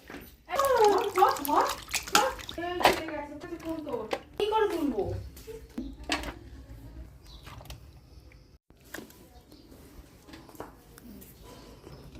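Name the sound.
washing fish with running water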